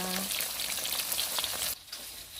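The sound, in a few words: food frying in oil until crispy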